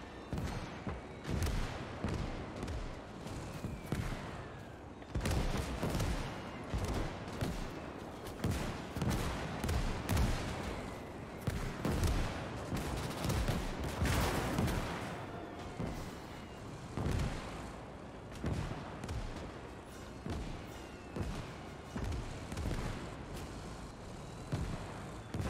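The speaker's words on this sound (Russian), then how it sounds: "Реально, кстати, минометов очень много." Mortar blasts and gunfire boom and crackle in Gates of Hell: Ostfront, a World War II battle game, with repeated heavy impacts and rattling shots continuing through a long stretch of combat.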